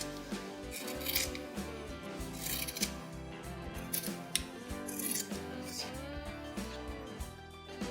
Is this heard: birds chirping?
no